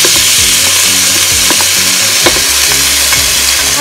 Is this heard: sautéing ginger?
yes